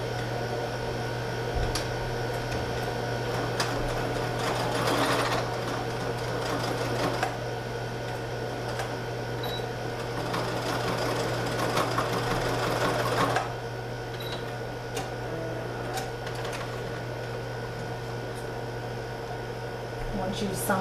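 A sewing machine runs a steady straight stitch along a fabric strip for a children's apron, a close, even mechanical whir with a constant hum and a few brief bursts of faster stitching.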